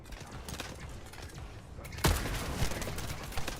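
Gunfire against snipers in the shooter game The First Descendant forms a low, steady rattle that jumps to a louder, sharper burst about halfway through and stays dense to the end.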